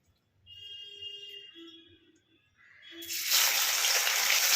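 Raw chicken pieces go into hot mustard oil. After a few quiet kitchen clinks, a loud, steady broadband sizzle erupts and keeps hissing to the end.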